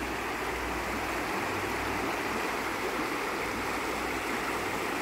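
A powerful river rushes steadily and loudly, a dense broadband roar of flowing water with no pauses and no voices.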